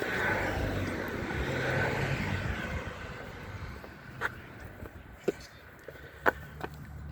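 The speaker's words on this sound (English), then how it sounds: "Excuse the background noise, it's traffic." Faint, steady traffic rumble drifts in from a distance behind car repair work on a 2010 Aveo. A few sharp, isolated clicks break through in the second half.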